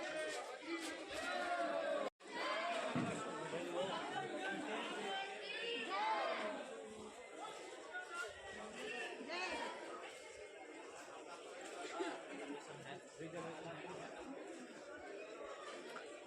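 A large crowd at Khatu Shyam temple chatters densely and continuously, many voices blending into a loud, close wash with occasional louder shouts rising above it.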